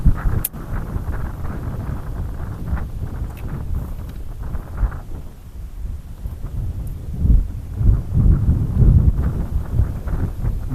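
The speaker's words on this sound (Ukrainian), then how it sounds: "В 9 годин вечора от такий тупо вітер." Strong evening wind while fishing buffets the microphone in heavy, rumbling gusts that swell and ease, growing rougher toward the end, with no talking.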